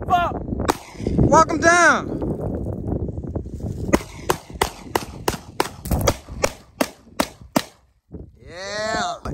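Gunshots crack at an outdoor shooting range, a rapid string of sharp single reports in steady succession, with people talking and calling out before and after the firing.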